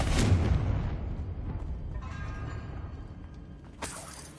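A Confringo spell in a video game bursts with a loud, sudden shattering blast, then leaves a long, rumbling decay that fades out. A brief crackle follows near the end.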